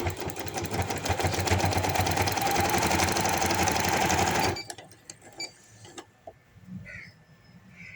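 A sewing machine stitching a handkerchief baby frock runs as a steady, loud, rapid mechanical whir for about four and a half seconds, then stops abruptly. After that come a few faint handling clicks and taps.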